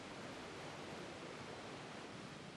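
A waterfall in Alaska where salmon leap up the steps makes a dense, constant roar of rushing water, loud and unbroken, with no voices.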